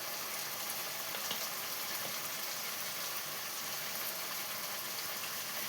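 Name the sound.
chili powder added to sizzling tomato masala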